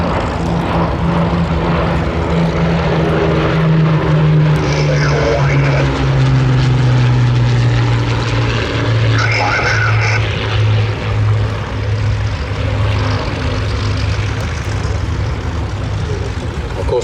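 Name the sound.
pair of Hawker Hurricane aircraft with Merlin engines flying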